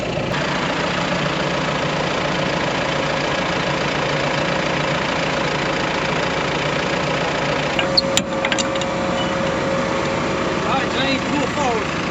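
A farm tractor engine runs steadily close by during a milo harvest, a constant low rumble with a brief clatter partway through and a faint tonal whine later on.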